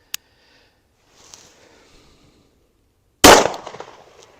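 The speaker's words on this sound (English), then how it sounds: "Do one more because I really enjoy shooting this gun." A single sharp, loud report from a concealed-carry handgun fired into ballistic gel at close range, with a short ringing decay, preceded by faint handling clicks and rustle.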